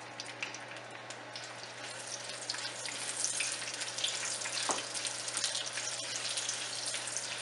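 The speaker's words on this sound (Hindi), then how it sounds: "अब हम इसमें तेल डाल देते हैं 1/2 कप। और साथ ही प्याज डाल देंगे।" Sliced onions fry in half a cup of hot oil, giving a steady, close crackling hiss that swells slightly partway through and carries on evenly with no voices.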